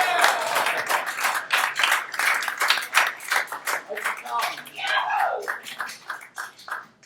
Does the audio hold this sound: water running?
no